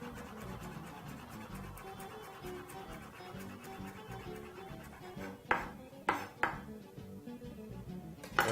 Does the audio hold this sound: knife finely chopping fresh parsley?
yes